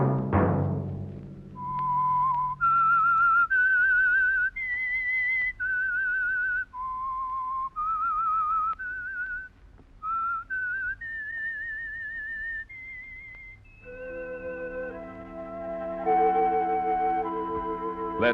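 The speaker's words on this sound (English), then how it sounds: "Let that whistle be your signal for the Signal Oil program, The Whistler" Whistled theme of the radio show The Whistler, a lone melodic whistle of sustained notes rising and falling, clear and close, ending on a brief swell of orchestral accompaniment.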